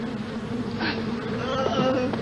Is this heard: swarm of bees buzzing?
yes